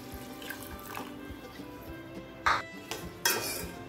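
Half a cup of water splashes briefly into a metal pot a few times, with light clinks of kitchenware in between, while making ulundu kanji with jaggery; no talking.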